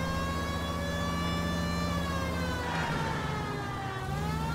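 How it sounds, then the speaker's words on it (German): An emergency vehicle siren wails in the video game L.A. Noire, loud and continuous with a rising and falling tone and engine noise beneath it, no speech. "Tatütata, die Feuerwehr."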